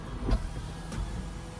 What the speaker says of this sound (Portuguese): Abrir aqui o teto dele.